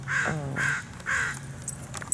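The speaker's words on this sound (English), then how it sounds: "That's a crow cuss." A crow caws three times in an even rhythm, loud and close outdoors, followed by faint rustling and small clinks.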